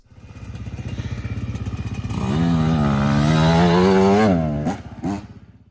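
A Yamaha YZ125 two-stroke dirt bike engine bogs before a small jump: a loud close buzzing that sags, labours to rise in pitch, then cuts off in a couple of sputtering bursts.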